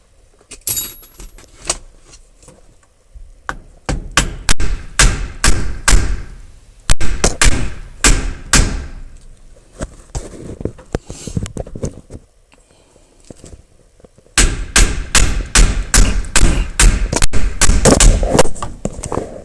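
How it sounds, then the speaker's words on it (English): A hammer bangs on a nut on a square-body truck's steering column while the steering wheel is pulled, making rapid bursts of loud, close metallic blows separated by short pauses. "You want to run that nut to where it's flush with the stud, and then bang, bang, bang, bang, bang while you're pulling hard on the steering wheel."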